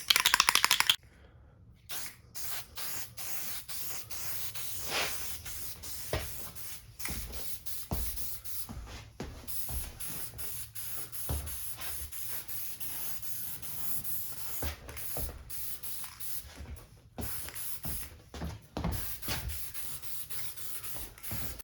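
Lacquer clear coat sprayed onto a WPL Toyota Land Cruiser RC car body, heard as a close hissing spray in repeated short bursts and longer passes, with brief pauses between them.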